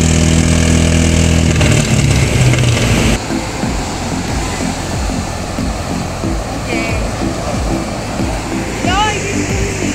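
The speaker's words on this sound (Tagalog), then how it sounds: "Pinapandar na yung motor para sa banana boat." A banana boat's motor runs loudly and steadily nearby at a beach resort, a low rumbling drone that shifts after a few seconds, with faint voices and chirps in the background.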